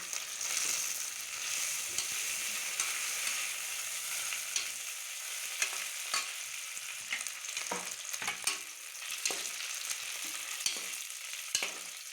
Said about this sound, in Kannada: ಉದ್ದಕ್ಕೆ ಹೆಚ್ಚಿದ ಈರುಳ್ಳಿ ಮತ್ತು ಹಸಿರು ಮೆಣಸಿನಕಾಯಿ ಹಾಕಿ ಚೆನ್ನಾಗಿ ಬಾಡಿಸಿ